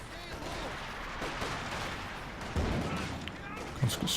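G43 semi-automatic rifles fired by Fusilier infantry in a Company of Heroes 2 1v1 match, heard as a steady wash of battle noise with sharp shots cracking throughout and a heavier burst near the end.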